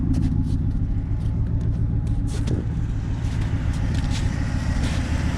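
The engine of an old red pickup truck, bought for $500, idles after sitting through five months of winter, a steady, close, loud low rumble with slight ticking and no talk.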